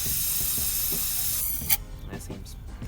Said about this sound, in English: I'll just do one for you guys to see how it sprays out